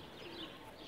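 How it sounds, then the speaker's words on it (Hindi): A Pakistani pigeon gives a soft, faint coo, a short low call over a quiet background. "ये इनका फेवरेट कबूतर है जिसे ये बहुत ज़्यादा प्यार करते हैं।"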